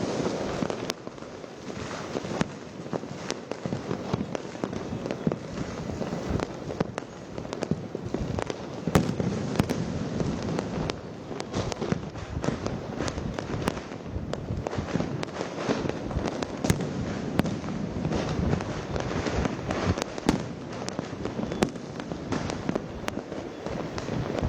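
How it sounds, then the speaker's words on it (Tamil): Firecrackers burst continuously across a city during Diwali celebrations in Coimbatore, a dense, crackling barrage of overlapping pops and bangs at mid distance with no voices. "கோவையில் திரும்பும் திசையெங்கும் பட்டாசுகளை வெடித்து தீபாவளியை பொதுமக்கள் கொண்டாடி மகிழ்ந்தனர்."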